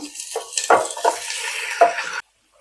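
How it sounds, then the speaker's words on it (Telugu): Chicken fries in hot oil with mint, crackling and sizzling close by while a utensil scrapes and stirs the pan in several uneven bursts, then everything cuts to silence. "ఒక టూ మినిట్స్ దీన్ని మంచిగా ఫ్రై చేసుకుందాం"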